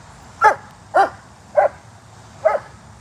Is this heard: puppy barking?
yes